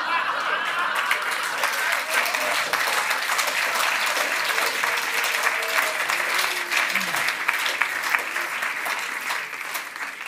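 Theater audience applauding steadily and fairly loudly at a German cabaret award show. A few faint laughs come through the dense clapping.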